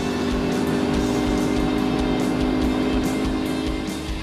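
Toyota 86 and Subaru BRZ race cars lapping Sportsland SUGO in a one-make race, engines droning loudly and continuously as cars pass close by with steady revving.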